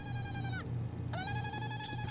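Electronic telephone ringing in the violent open-world video game Postal 2, a harmonic warbling tone in two bursts separated by a short pause, heard over steady game background hum with no talk.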